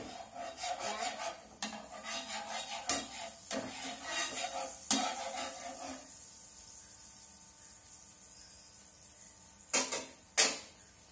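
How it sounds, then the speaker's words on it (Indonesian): Butter for eggs being stirred in a pan, heard as repeated scraping strokes with sharp clacks in a busy rhythm for about six seconds, then near quiet before two final loud knocks. "kalau belum menteganya belum encer boleh diaduk-aduk dulu ya bun"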